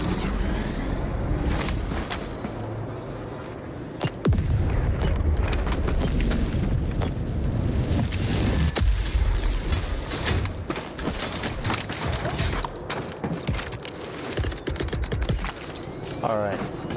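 Helldivers 2 orbital barrage, 380mm HE and 120mm shells, lands in a run of sharp booms and crackling blasts over a rumbling bed, with game voices and effects layered through it.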